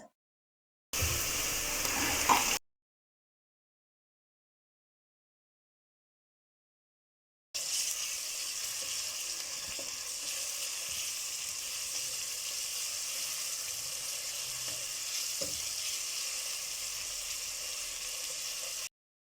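Ginger garlic paste sizzles in a pot of translucent onions for bean stew. A short burst of frying is followed by a gap of silence, then a long, steady, close hiss with faint clicks.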